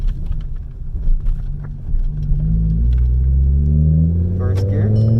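A Volkswagen Golf with a straight-piped exhaust burbles at idle, then revs up into a loud, rising, raspy drone that holds steady, close by, with brief talk early on.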